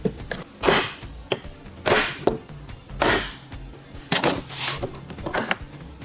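Several metallic hammer blows on a hammer-type wire crimper ring out irregularly, close by, each with a clanking, clinking tail; no one speaks.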